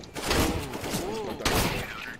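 Rapid MAG-7 shotgun blasts from a video game, a couple of loud booming shots close up with a brief pause between, mixed with game effects and light chatter in the background.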